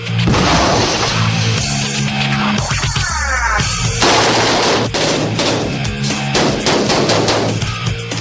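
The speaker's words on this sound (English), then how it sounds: "A special device called a frame charge is used for blowing holes in a wall." A frame charge of plastic explosive on a purpose-built board blasts a hole through a wall, heard amid loud rapid bursts of gunfire and sharp cracks, close and very loud, with a heavy deep impact partway through.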